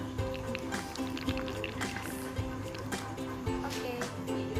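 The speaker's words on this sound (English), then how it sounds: "And then pour enough milk," Bear Brand milk pours onto oatmeal in a bowl for a homemade face mask, a steady liquid trickle and fill sound running throughout, close up and moderately loud, with some background noise.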